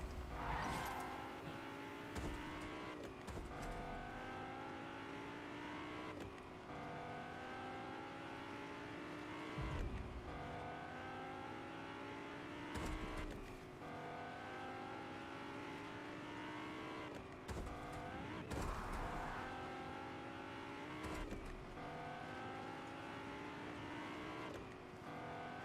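A stolen car driving in the video game Fortnite, its engine revving up and shifting in repeated rising sweeps, steady and close for the whole stretch, with occasional bumps and no talking.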